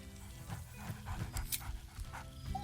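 Scratch, a dog in Baldur's Gate 3, pants and whimpers eagerly at close range, with short breathy huffs in a quick rhythm over a low background hum.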